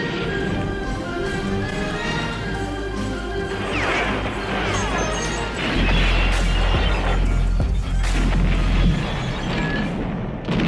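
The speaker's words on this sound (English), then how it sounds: "He improvises an explosive device, triggering the equivalent of a barn-sized claymore mine" A large improvised explosive device detonates in a Rambo film, giving a loud, sustained crashing blast with heavy low rumble and scattered debris-like cracks that swell midway, with no talking.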